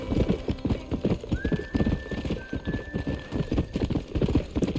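In the Red Dead Redemption video game a horse gallops with a rapid, steady clip-clop of hooves, and one long whinny rises clearly over the hoofbeats.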